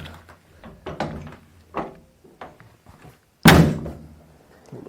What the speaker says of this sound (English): Here's that emergency door.